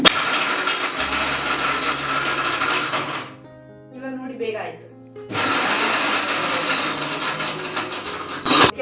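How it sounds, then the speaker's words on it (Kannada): A mixer grinder whirs loudly grinding dosa and egg sambar ingredients, cuts off briefly while someone speaks, then roars back on at full power before stopping. "ಇವಾಗ ಇದನ್ನು ನಾನು ಫಸ್ಟು ಮಿಕ್ಸಿಗೆ ಹಾಕ್ಕೊಳ್ತೀನಿ"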